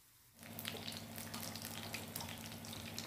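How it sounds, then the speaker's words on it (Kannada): Veg lollipops deep frying in hot oil on a gas stove at medium flame, a steady close bubbling sizzle that starts suddenly and holds loud and even, with no talking. "ಗ್ಯಾಸ್ನ ಮೀಡಿಯಮ್ ಫ್ಲೇಮಲ್ಲಿ ಇಟ್ಕೊಂಡು ಒಳ್ಳೆ ರೀತಿ ಎಲ್ಲ ಕಡೆ ಡೀಪ್ ಫ್ರೈ ಮಾಡಬೇಕು"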